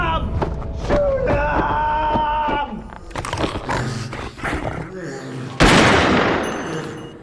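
Gunfire rattles out in a burst during a horror-comedy monster fight as soldiers shoot at a creature, mixed with roaring and shouted voices, ending in a loud sustained blast.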